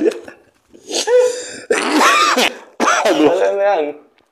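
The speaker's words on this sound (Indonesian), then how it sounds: "Gue kalau ketawa jadi batuk aja." Harsh, throaty coughs break out in several bursts, mixed with laughter-like vocal sounds, close to the microphone.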